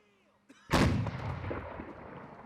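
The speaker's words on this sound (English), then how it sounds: "Let's watch the cannon get fired." A single Union cannon firing in the Civil War game Battle Cry of Freedom, a sharp, loud boom followed by a long rolling decay after a brief quiet lead-in.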